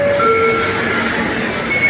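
A train rumbles steadily at Chatuchak Park railway station, a loud, continuous rolling roar with faint tonal squeals over it.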